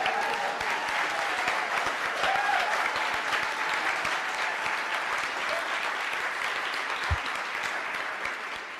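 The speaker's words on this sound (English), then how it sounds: "Give him an applause." Sustained crowd applause fills a victory speech hall, a dense steady wash of many hands clapping at even loudness throughout, with faint cheers mixed in and no clear talking over it.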